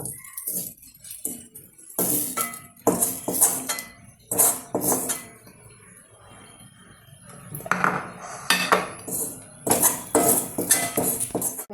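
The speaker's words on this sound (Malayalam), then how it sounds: "ഓഫ് ചെയ്തു ഞാനിത് വേറൊരു ഡിഷിലോട്ട് മാറ്റുവാണ്" Cooked vegetable filling for cheese rolls is moved into another dish with loud, close clinks and scrapes of a metal utensil against the vessels, coming in irregular bursts separated by short quiet gaps.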